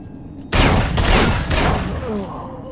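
Several loud video game shotgun blasts in quick succession, booming close up, with a fainter shot trailing off at the end.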